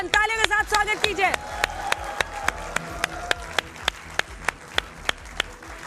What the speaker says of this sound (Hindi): तालियों के साथ स्वागत कीजिए